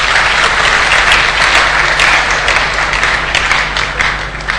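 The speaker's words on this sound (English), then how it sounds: "Please give him a beautiful round of applause." A synod audience at a Diocese of Lagos West gathering applauds loudly, a dense, steady wash of many hands clapping that carries on without a break and fades only slightly toward the end.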